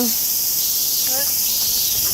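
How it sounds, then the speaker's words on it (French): Cicadas in Japan, a loud continuous high-pitched shrill buzz filling the air, steady and close, with faint bird-like chirps briefly underneath. "Les cigales au Japon."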